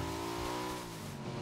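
Steady car engine drone with a held pitch while driving in the video game PUBG, continuous and fairly close, no talking.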